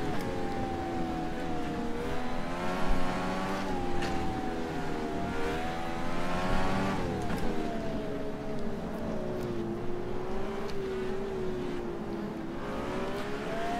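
A DW12 open-wheel race car in rFactor 2 at Atlanta Motorsports Park, its engine holding a loud, buzzing whine that rises and falls with shifts and throttle changes, continuous with no talk.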